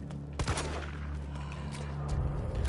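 Rapid gunfire in the survival horror game Resident Evil 3, a few sharp shots near the start and later over a steady rumbling background, close and fairly loud with no speech.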